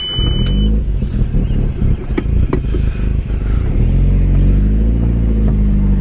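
A VW MK4 GTI engine pulling in first gear while driving, a loud, close rumbling drone with rising revs and a few clunks, with no talk over it.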